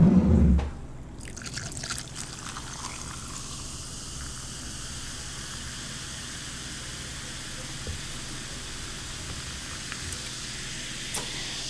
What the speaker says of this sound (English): I'm gonna just pour this on my ice